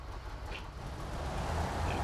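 The diesel engine of a Type-73 military truck in SnowRunner drones steadily at low pitch, its rumble swelling gradually louder, with a couple of faint high chirps over it and no speech.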